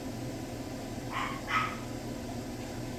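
A dog gives two quick barks indoors, at moderate distance and fairly quiet, over a low steady room hum.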